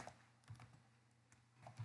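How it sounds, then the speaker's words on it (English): Quiet, close keystrokes on a computer keyboard, a few scattered taps with short pauses between them over a faint steady hum. "let me type"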